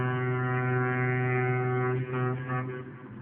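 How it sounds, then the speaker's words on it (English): Ship foghorn sounded while bringing a vessel into port: a single sustained, steady low horn blast holding for about three seconds, then tapering off, heard alone. "we had to sound the foghorn while we brought it into port"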